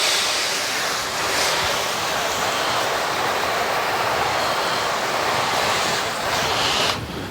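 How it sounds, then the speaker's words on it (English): A car being rinsed after iron remover and all-purpose cleaner, a continuous loud hiss of spraying water that runs steadily throughout with no talk. "So now what I'm going to do is I'm going to go ahead and rinse this."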